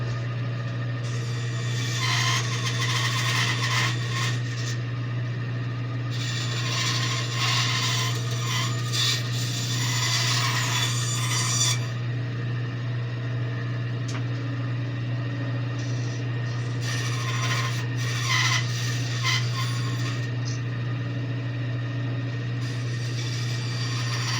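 Hand saw cutting out a wooden wolf blank, bursts of rasping strokes separated by pauses, over a steady low hum in the room.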